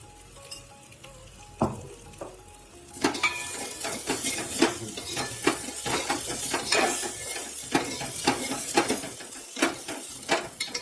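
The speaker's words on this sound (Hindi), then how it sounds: "तो ऐसे इलायची भी हल्का सा भूनेगी इसमें चावल के साथ" Rice and cardamom roasting in a pan for kheer, stirred with a utensil: after a quiet start, rhythmic scraping and clinking against the pan over a light sizzle, close and clear.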